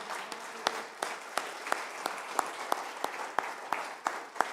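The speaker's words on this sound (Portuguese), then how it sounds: "Vamos aplaudir a Jesus." Church congregation applauding during a worship service, a steady patter of clapping with sharper individual claps standing out at a moderate, fairly distant level.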